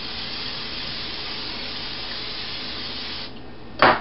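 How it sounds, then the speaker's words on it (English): Canola oil cooking spray hisses in one long continuous burst over bagel dough in a pan, then cuts off, followed by a short, sharp second spurt close to the microphone. "This is just canola oil. Spray the entire pan, put your dough ball in, and now you're going to spray the top too."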